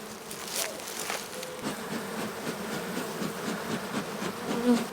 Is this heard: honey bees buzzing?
yes